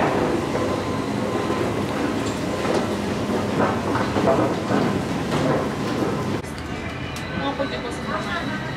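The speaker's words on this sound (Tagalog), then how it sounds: "Ito po kami na rin sa train." Interior of a moving train in Europe, a loud, steady rumble with rhythmic clickety-clack of the wheels, heard from aboard the carriage, with the tone shifting slightly near the end.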